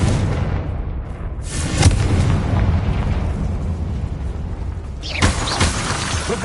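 A Confringo spell blast in the Hogwarts Legacy video game lands as a sharp burst near two seconds, with another impact about five seconds in, over a dense rumbling bed of game effects and no talking.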